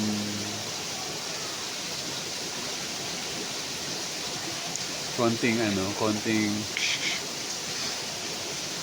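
Steady rain pouring down around a campsite in the early morning, a continuous broad hiss throughout, with a person talking briefly near the end.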